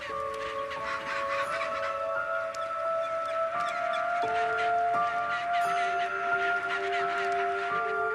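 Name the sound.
chinstrap penguins calling at a breeding colony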